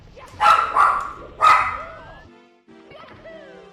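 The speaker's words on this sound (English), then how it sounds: "her little tiny barks" Small dog Juno lets out two sharp, high barks close by, followed by a quieter whining yip, all fairly loud against a quiet room.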